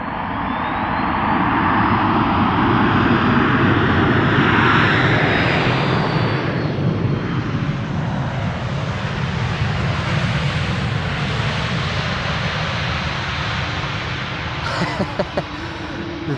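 An airliner landing at Amsterdam Schiphol Airport on a wintry day, its loud engine roar sustained throughout and slowly easing off as it touches down and rolls out, with faint sounds near the end.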